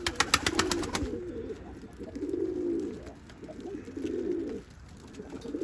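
Tumbler pigeons coo on a balcony in three long, throaty rolling phrases with short pauses between, after a brief burst of sharp rapid clicks at the start.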